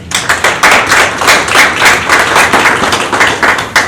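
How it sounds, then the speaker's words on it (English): Applause from a school board meeting audience fills the room, a dense, steady wash of many hands clapping at once, loud and close, holding through to the end without letting up. "let's give them one more round of applause"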